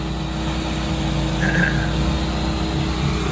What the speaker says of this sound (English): That thing sounds cool, even though it's got all the exhaust leaks and stuff that he was telling me about.